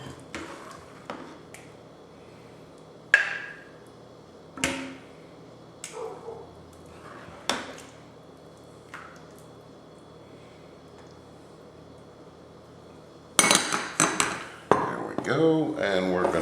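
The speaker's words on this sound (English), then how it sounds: "We're going to give this a quick stir." A spoon scrapes and clinks against a pot while stirring rice for chicken sauce piquant, with scattered sharp metallic taps at irregular intervals, then a busier cluster of clatter and clinks toward the end.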